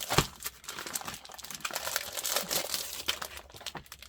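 Sheets of chipboard about 2 mm thick are cut for a handmade album, giving close, irregular crinkling and crunching scrapes with sharp snaps scattered through.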